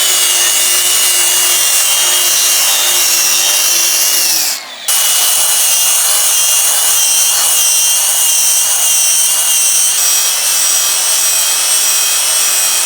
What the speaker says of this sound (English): So I'm going to put my angle grinder back in there